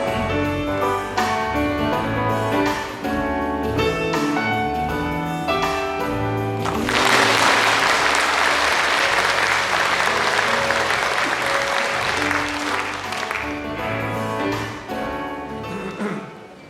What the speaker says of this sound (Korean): 오늘 저이 계룡에 와서 큰 박수를 몇 번을 받았는데